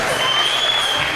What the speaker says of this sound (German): applaudiert dem Publikum zurück.